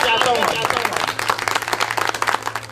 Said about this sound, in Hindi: इनके लिए मैं जोरदार तालियां चाहता हूं।